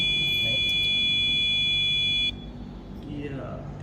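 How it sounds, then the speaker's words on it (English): Buzzer of an IoT fish bite alert system sounds as a steady shrill electronic tone for about two seconds, then cuts off, leaving background noise. "As expected, the buzzer sound again."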